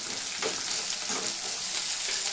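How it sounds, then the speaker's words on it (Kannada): Onions frying in an Indian home kitchen pan, a dense, steady sizzle with faint stirring scrapes, close and continuous with no talk. "ಈರುಳ್ಳಿ ಫ್ರೈ ಆಗ್ತಿದೆ"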